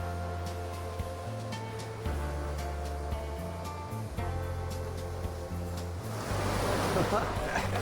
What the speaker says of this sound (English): This was Angie catching a couple of good waves and she was rightfully pleased with herself.